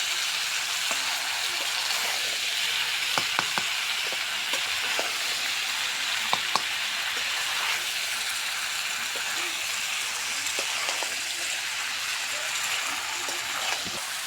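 Braised meat is tipped into jackfruit cooking in oil in a pan, giving a steady close sizzle with a few sharp ticks and spoon clicks while a voice talks over it; rain may add to the hiss.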